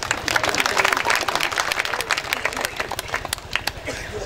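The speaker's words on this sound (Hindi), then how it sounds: "ताली बजा सकते हो।" An audience of students claps at a shayari recital, a lively burst of close hand claps that thins out toward the end, with a voice speaking over it.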